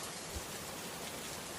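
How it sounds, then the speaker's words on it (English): Heavy rain pours down over a village, a dense, even hiss of falling water filling the whole stretch without pause or voices. "if it rains like this for 2 more days, our village will be flooded"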